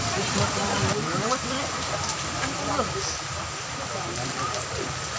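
Rain falls steadily at a seaside seafood market in Divisoria, Cawayan, Masbate, a dense continuous patter running under people talking nearby.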